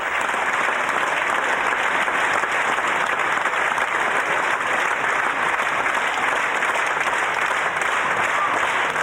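Opera audience applauding soprano Sumi Jo after a grand performance, a dense, continuous wash of clapping from a large crowd, steady and even throughout.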